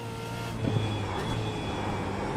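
A car driven in a racing game, its engine a steady mid-pitched drone that rises slightly as it accelerates and then holds, with no one speaking.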